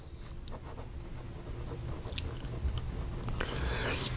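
Wing Sung 233 fountain pen nib gliding across paper, a soft, steady scratching of continuous strokes close by, with no talk.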